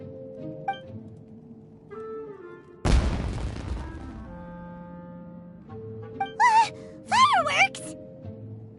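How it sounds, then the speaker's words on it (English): Fireworks going off in the video game Genshin Impact, one sudden loud broadband burst with a crackling decay, set among game music and character voices that keep talking and exclaiming around it. "It sounded like fireworks."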